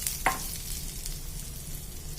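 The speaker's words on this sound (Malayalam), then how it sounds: "ഞാനിത് 3-4-5 പ്രാവശ്യം ഇങ്ങനെ ഇളക്കിയിട്ട് കൊടുത്തിട്ടുണ്ട് കേട്ടോ. നല്ലതുപോലെ തിരിച്ചു മറിച്ചിട്ട് വേവിച്ചിട്ടുണ്ട്." Chicken fries in coconut oil while being stirred, with a steady close sizzle under a brief scrape of the stirring utensil near the start, and no one speaking.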